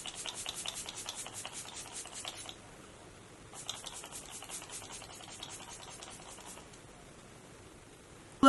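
Dewy Coconut Setting Mist sprayed onto the face in rapid repeated pumps, forming two long bursts of soft hissing spritzes close by with a short pause between them.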